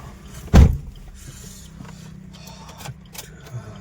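Someone gets into a car on a cold, foggy winter morning in the Delhi NCR area. A sharp door thud lands early, followed by quiet shuffling, mechanical clicks and a faint steady hum inside the vehicle.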